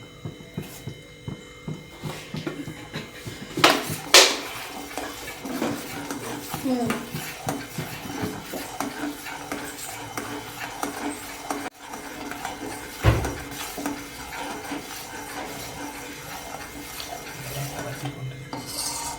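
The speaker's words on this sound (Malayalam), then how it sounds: "ഇങ്ങനെ കലക്കിക്കൊണ്ടിരിക്കുക." A metal spoon stirring sugar into tea in a pot, soft repeated scraping and clinks against the metal with a few sharper knocks, fairly quiet throughout.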